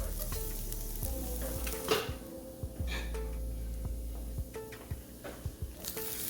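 Frittata ingredients fry in a pan with a steady, close sizzle, broken by a few clicks and scrapes as the pan's contents are stirred, with no voices.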